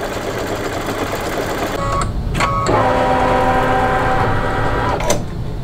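A single-needle embroidery machine stitches background quilting texture into a square panel, a steady mechanical whir and tapping that runs throughout and grows louder and denser in the latter half, with a few sharp clicks.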